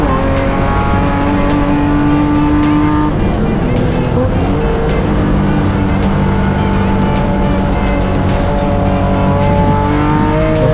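BMW M race cars on Dunlop Sport tyres lap a circuit at a race festival, engines roaring loudly and continuously as cars pass and rev, with tyre squeal and faint commentary underneath.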